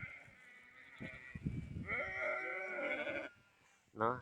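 Sheep and lambs bleat close by in a farmyard with a sustained wavering call, then a short sharp bleat at the end, while a person's voice calls to the flock around them.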